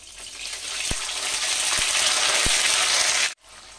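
Ginger paste drops into hot oil already holding bay leaves, cardamom and fennel seeds for a vegetarian chhana curry, giving a loud, steady sizzle with a few sharp ticks that cuts off abruptly near the end.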